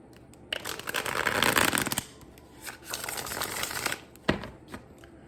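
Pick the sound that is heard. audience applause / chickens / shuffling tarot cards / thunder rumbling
shuffling tarot cards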